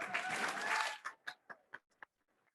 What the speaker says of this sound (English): and let's give them all a round of applause.